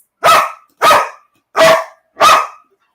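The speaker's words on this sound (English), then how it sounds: "What are you barking at?" Dog barking loudly and close, four sharp evenly spaced barks in quick succession with silence between them.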